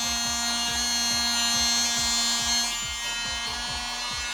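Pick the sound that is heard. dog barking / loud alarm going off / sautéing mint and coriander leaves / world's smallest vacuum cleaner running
world's smallest vacuum cleaner running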